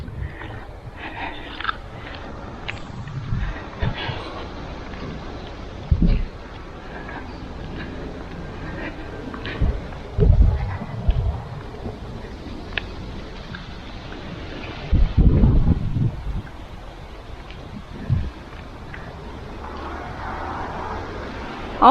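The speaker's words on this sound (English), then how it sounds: "Oh, it's so windy today." Gusty wind buffets the microphone outdoors on a windy day in Albania, a steady rushing roar with several louder thumping gusts, heard alone without speech.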